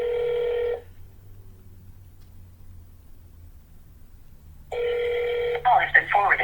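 A telephone rings on a cold sales call: two electronic ring bursts separated by a few seconds of quiet line, with a voice coming in near the end of the second ring.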